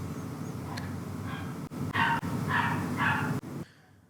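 A dog barking in a video game, several short clipped barks in quick succession over a steady low background hum, ending in sudden silence, with no voices.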